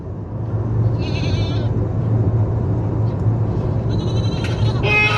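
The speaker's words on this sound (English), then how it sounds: "Oh my God, that freaking goat." A goat bleats a few times at some distance, short nasal cries poking above a loud, steady hum of passing traffic or an engine.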